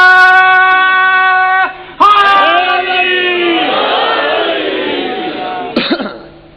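At a Shia religious gathering led by Allama Ghazanfar Abbas Tonsvi, one voice calls out loudly, then a large crowd roars back a chanted slogan, close and powerful, before the voices fade and break off near the end.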